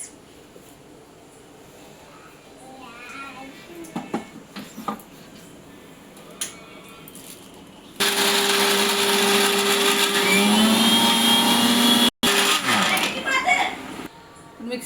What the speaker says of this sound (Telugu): ఫస్ట్ దీన్ని మిక్సీ చేసి పౌడర్ లాగా చేసుకుంటాను